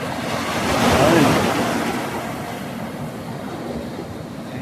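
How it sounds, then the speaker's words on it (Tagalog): Ocean waves surge and break near a boat at Taqah, a loud rushing swell that peaks and then settles into a steady roar with wind buffeting the microphone. "Dito may alon oh."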